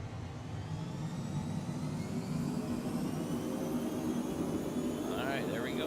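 Cockspur PH100 Phenom light jet rolling for takeoff in a flight simulator, a steady loud whine and engine roar that holds even throughout with a faint rising tonal sweep near the end.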